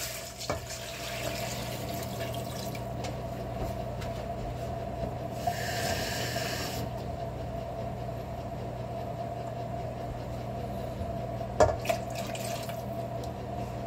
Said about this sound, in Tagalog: Lagyan na rin natin ng tubig.